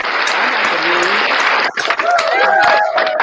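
Recorded applause effect on a podcast rings out in a burst of clapping and cheering, dense and loud, then cuts briefly before more crowd-like noise and tonal sounds follow.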